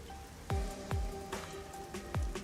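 Rain falls steadily on a neon-lit street in Kamasaki District, Kanai Ward, in the video game Rain Code Plus, a soft hiss broken by several dull low thuds at uneven intervals.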